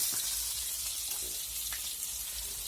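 Fish frying in oil over a wood fire, a steady close hiss and crackle of sizzling that runs unbroken and fairly loud, with a few faint knocks underneath.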